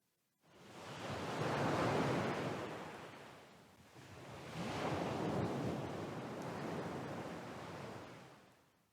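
Ocean waves swell and break in two broad surges of rushing surf, loud and close, with no voices over them.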